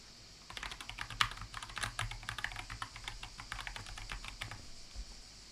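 Steady typing on a computer keyboard, close and fairly quiet, a busy patter of individual key clicks running for several seconds with a few short pauses, no talking.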